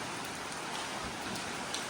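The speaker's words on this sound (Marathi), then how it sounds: "काय काय पाऊस पडतोय छत्री आणायला विसरलो" Rain falls steadily in an even, unbroken hiss, soft and continuous, with no voices or other distinct sounds.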